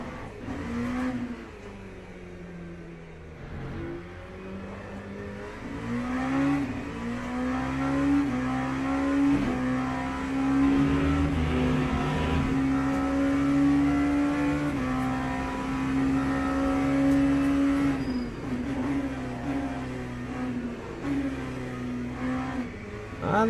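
An LMP2 prototype race car engine from Le Mans Ultimate, on the European Le Mans Series car, hums and revs continuously, its pitch rising and falling through gear changes while a faint voice talks underneath.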